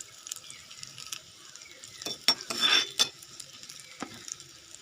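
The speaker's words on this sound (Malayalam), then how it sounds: "ഉള്ളി ഇട്ട് നല്ലതുപോലെ ഒന്ന് വാടണവേ. മുരിഞ്ഞ് വരണം" Onions sauté in hot oil for a Kerala-style kingfish curry with ground coconut, giving a soft, continuous sizzle broken by several sharp clinks and scrapes of a spoon stirring against the pan.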